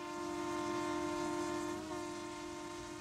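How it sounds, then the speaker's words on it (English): A CN Newfoundland Railway train along the Conception Bay shoreline sounds a long, sustained horn blast over a steady rolling rumble, loud and continuous for the whole stretch. "People still come out to watch the train pass."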